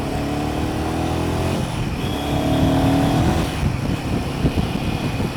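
A Royal Enfield Himalayan 450 motorcycle is ridden, its engine droning loudly and continuously with shifting pitch and heavy wind rush, close to the listener and with no talking.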